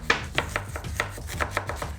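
A kitchen knife chops an onion on a board in quick, evenly spaced strikes, about eight close, crisp knocks over two seconds, with no talking.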